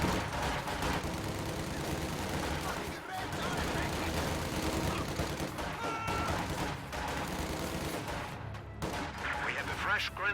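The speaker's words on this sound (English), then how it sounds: "And the Grenadiers continue firing at range for a little while with only 3 models." Grenadier rifles firing at range in the strategy game Company of Heroes, a continuous crackle of shots and thuds throughout a busy battlefield mix, with a commentator talking over it.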